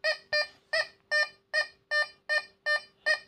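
A Find X Pro metal detector beeps over an 18k gold ring in nine evenly spaced, clear electronic tones, each short and bright, repeating steadily at close range with no talking.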